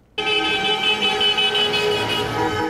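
A car horn blasts loudly and continuously after a sudden start, part of a funeral motorcade protest by drivers, holding a steady bright tone close by with no talking.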